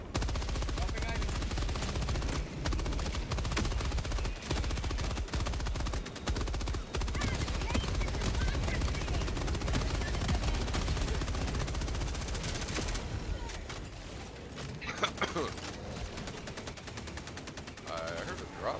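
Sentry turret gunfire in the video game Helldivers 2, loud sustained rapid automatic bursts that run for most of the stretch before thinning to scattered shots, with a voice talking over parts of it.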